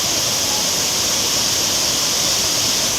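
The Kapilappa Teertha waterfall pours in full flow, a loud, continuous, close roar of rushing water that stays even and unbroken throughout.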